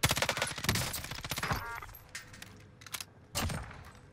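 Enemy gunfire in a shooting video game, a rapid burst of sharp shots followed by scattered single cracks and a final short volley, fairly quiet and without voices.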